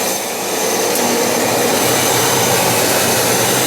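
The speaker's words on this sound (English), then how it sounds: "I even have my dust collector set up, better known as the vacuum cleaner" Vacuum cleaner serving as a dust collector in a piano workshop, a loud, steady broadband roar that runs continuously without letup and no talk.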